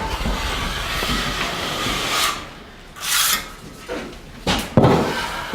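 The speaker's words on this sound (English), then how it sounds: "I just take my 14-inch trowel and go" A 14-inch trowel scrapes along a metal drywall corner bead while the first coat of joint compound goes on, giving steady rasping strokes broken by a few short, louder swipes near the end.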